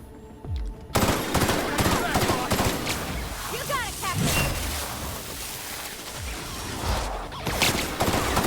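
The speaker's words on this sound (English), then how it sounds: "So this is Phineas's gun." Rapid automatic gunfire from a weapon in the sci-fi video game The Outer Worlds, loud bursts of shots running almost continuously with crashes and whooshes mixed in, a voice talking over parts of it.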